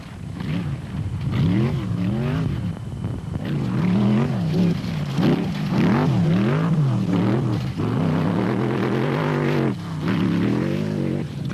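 A 3.5 litre rally truck engine roars close and loud throughout the Nissan Dealer 400 rally, rising and falling in repeated revving sweeps as it accelerates and shifts.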